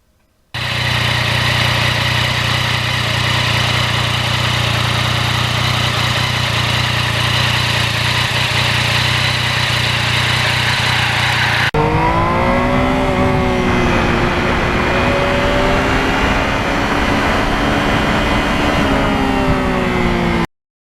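Engine of a 2020 Yamaha MT-09 motorcycle on a ride, a loud steady drone for about eleven seconds, then shifting to rising and falling revs with clear pitch sweeps as the bike accelerates and changes speed, with no talking.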